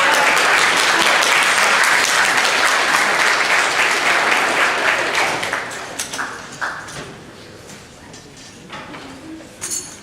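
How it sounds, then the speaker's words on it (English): Audience at a high school AF ROTC ceremony gives the Color Guard a round of applause, loud dense clapping that fades after about five seconds into scattered claps and quiet room noise. "Let's give a round of applause for our"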